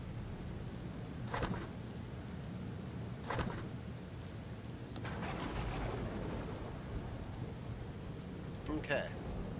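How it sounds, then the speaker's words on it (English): Rain falls in the video game Empyrion Galactic Survival, a constant hiss of downpour with occasional louder crackling bursts and low rumbles, steady throughout. "Bloody rain making it miserable."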